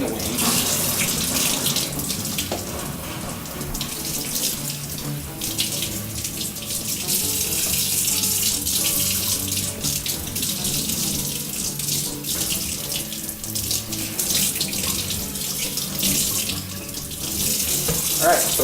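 Cold tap water runs steadily into a sink while a whole turkey is rinsed inside and out before grilling, a loud, continuous close splashing with slight shifts as the bird is moved under the stream, and no talking.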